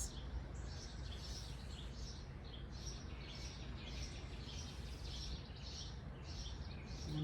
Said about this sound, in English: I'm really enjoying listening to the birds this morning, using them as my focus, listening to their beautiful sound in nature